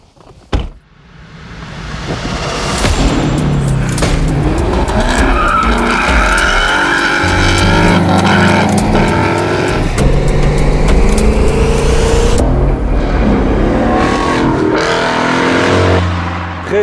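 A Ford Mustang 5.0 with a six-speed manual and locking differential revs hard and skids, tyres squealing loudly and continuously for over a dozen seconds, engine roar rising and falling close by.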